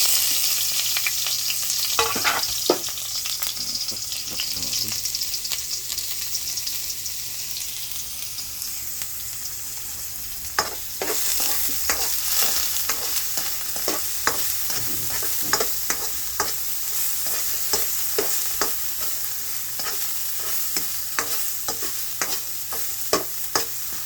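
Garlic sautéing in hot cooking oil sizzles steadily and close, broken by repeated scraping and stirring knocks of a utensil against the pan, with no talking.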